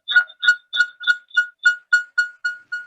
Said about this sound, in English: Sir, can you mute your mobile phone?